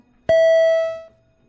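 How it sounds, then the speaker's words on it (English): A single electronic chime for a Senate quorum call rings out clearly, holding a bright tone for nearly a second before fading away in a quiet room. "can we please ring the bells?"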